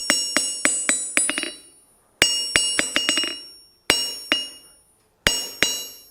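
Hammer strikes on an anvil swage block mounted on its stand ring out in bright metallic clinks, in groups of quick rhythmic blows with short pauses between.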